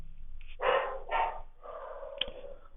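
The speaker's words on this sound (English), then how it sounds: "I think you are getting disturbed by these dogs." Dogs bark from somewhere off to the side, two loud barks followed by a longer, softer bark and a sharp yip, with no talking over them.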